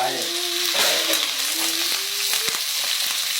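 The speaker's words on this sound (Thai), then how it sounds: "ผัดให้เหมือนกับกากหมูเลยนะฮะ" Fatty pork stir-fried in a pan until crispy, giving a loud, steady sizzle and crackle of hot fat with occasional scraping stir strokes, close up and with no talking.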